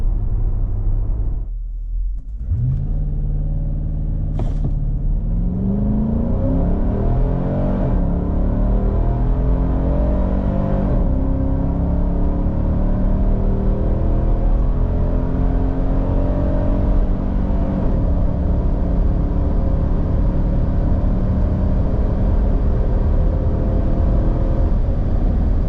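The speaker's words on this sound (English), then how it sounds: "I'm going to miss this engine when they replace it with a twin turbo V6 in the Y63 Patrol next year for Australia." A 2025 Nissan Patrol Warrior's engine drones steadily from inside the cabin on a test drive, a low continuous rumble with rising and falling revs as the vehicle accelerates, alone without talk.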